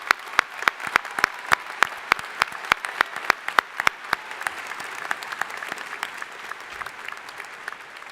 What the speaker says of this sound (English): Please give all of these medalists a round of applause.